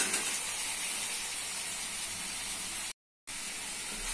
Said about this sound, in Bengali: মশলার সাথে ভালো করে আলুকে কষে নিতে হবে।